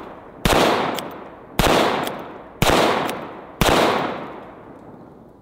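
Four loud, close gunshots from a .45 Long Colt revolver ring out at roughly one-second intervals, each a sharp crack followed by a decaying echo outdoors, with no voices.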